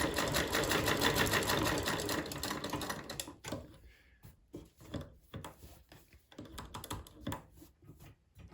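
An old foot-treadle sewing machine stitches steadily with a fast rhythmic clatter, then slows into uneven bursts of clicking and knocking, close up with no talking.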